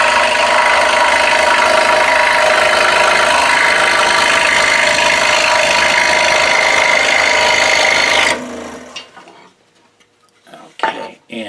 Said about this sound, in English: It's going to need a little bit of cleanup at the disc sander.